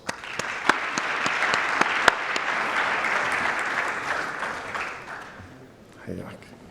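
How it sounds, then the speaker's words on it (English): An audience at a youth forum session claps to welcome a speaker, a sustained round of applause with a few sharp individual claps standing out, fading near the end. "let's welcome him with a round of applause"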